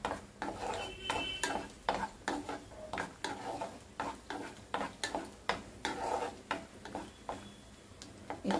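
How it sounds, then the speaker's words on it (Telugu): Cashew pieces fry in a pan, faint sizzling broken by frequent rhythmic scraping and tapping of a spoon stirring them; no speech. "జీడిపప్పు ముక్కలు ఫస్ట్ వేసి వీటిని కాసేపు కొంచెం దూరంగా వేయిద్దాము"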